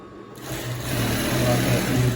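A sewing machine stitches a seam on a dress, starting after a brief pause and settling into a steady, close, humming whir of rapid needle strokes.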